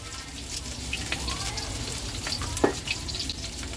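Pork bones deep-frying slowly in a large batch of hot oil for a garlic-pepper dish, giving a steady bubbling crackle with one sharper pop near the end.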